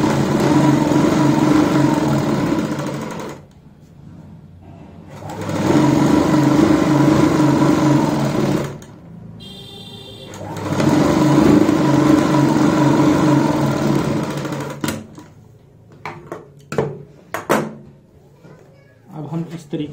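A sewing machine stitches pintucks on palazzo pants in three sustained runs of several seconds each, separated by short pauses, followed by scattered clicks and handling noises of the fabric.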